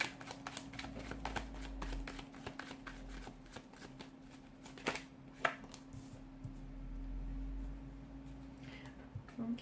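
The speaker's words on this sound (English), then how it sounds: "give the cards a shuffle" Tarot cards are shuffled close up in a steady run of quick riffling, flicking bursts with brief pauses. No one speaks.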